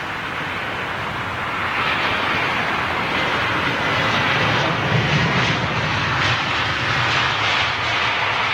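A large airliner with a 22-wheel landing gear climbs away after takeoff, a loud, broad engine roar that holds steady and builds slightly as it passes, with no talking.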